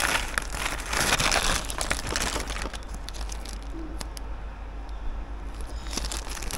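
A microphone cable package being unpacked close up: loud, dense crinkling and rustling of plastic wrapping for the first few seconds, then softer, sparser crackles and handling sounds.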